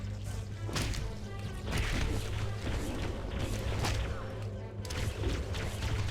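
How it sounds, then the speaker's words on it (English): Fuel rod explosion in Halo: dense crashing blasts and whooshing bursts over a steady low game hum, with sharp hits near the start and again toward the end. "It was the fuel rod explosion."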